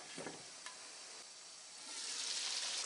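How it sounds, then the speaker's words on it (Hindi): Tomatoes cooking in a pan on low heat for a chicken kofta curry give off a steady, soft sizzle, with a few faint stirring clicks early on and the hiss growing brighter and fuller toward the end. "टमाटर डाल के पका लेते हैं।"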